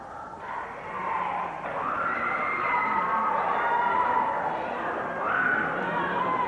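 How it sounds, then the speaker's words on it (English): Cheerleaders rouse a small crowd of high school students in the corner of a gym at a 1988–89 Gate City Lady Devils vs. Abingdon girls' basketball game. The sustained, chant-like cheering and crowd voices run steadily throughout. "Cheerleaders pepping the small crowd of high school students we have in the corner."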